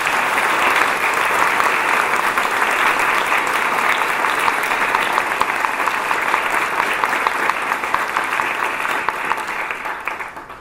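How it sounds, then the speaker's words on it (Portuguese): Sustained audience applause for two choir conductors at a community concert in São Caetano do Sul, a dense steady wash of many hands clapping that holds for about ten seconds and slowly tapers. "A ambos os mestres, pedimos uma merecida salva de palmas."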